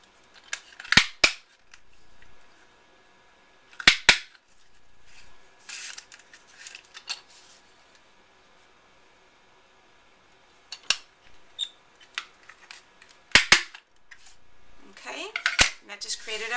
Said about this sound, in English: I'm just using my Fisker's scallop border punch here